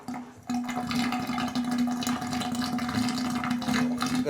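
Water runs steadily into a toilet tank's overflow tube, a continuous close rushing flow with a faint hum, beginning after a brief quieter moment and carrying on unbroken.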